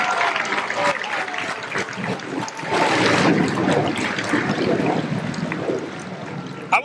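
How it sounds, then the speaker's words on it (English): An audience at an Air Force basic training coin and retreat ceremony applauds new airmen, a steady wash of many hands clapping that rises midway and carries on throughout. "Let's give them a round of applause."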